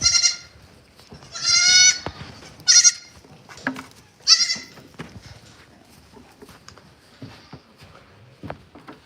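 Goats bleating on a goat farm, several loud harmonic bleats in the first five seconds followed by quieter rustling, footsteps and shuffling of livestock in a pen.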